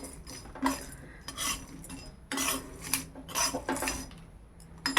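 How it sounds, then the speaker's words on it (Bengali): Whole biryani spices dry-roasting in a metal pan while being stirred, with scraping, rattling strokes and light clinks in uneven bursts, close and moderately loud, no voices. "শিম মাছের মশলাটা একটু ভালো করে"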